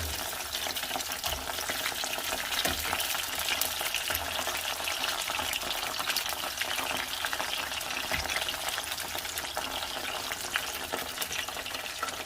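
Tacos dorados fry steadily in hot oil in a pan, a dense, constant crackling sizzle that holds at an even level throughout, close and loud with no talking.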